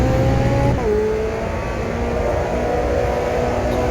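A car engine held at full throttle through a corner, a loud close roar with a pitch that drops sharply at a gear change and then climbs steadily as the revs build again.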